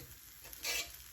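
Buttermilk pancake batter sizzles on a hot griddle, a soft steady hiss that swells briefly louder midway through a short moment, with no talking.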